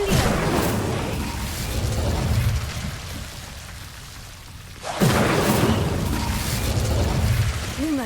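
An Incendio fire spell in Hogwarts Legacy erupts in loud, roaring bursts: one rumbling blast dies down, then a second sharp whoosh flares up halfway through and keeps roaring.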